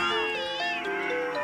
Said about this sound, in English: heard a cat meowing beside him